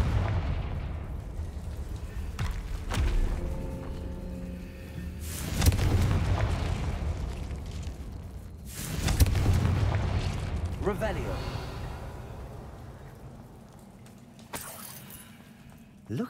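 Confringo fire spell blasting in Hogwarts Legacy, several heavy booming explosions with rumbling tails spread over about sixteen seconds, mixed with clattering game effects and a voice speaking at times.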